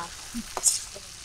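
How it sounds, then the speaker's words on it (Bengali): Turmeric and chili spices fry in a pan in a village kitchen, with a soft crackling sizzle and a couple of quick stirring scrapes, close and brief. "আমি বনিয়ে নিচ্ছি সুন্দরভাবে, একদম ভাজা ভাজা করে নিচ্ছি"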